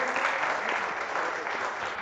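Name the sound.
audience applause at Gujarati poetry event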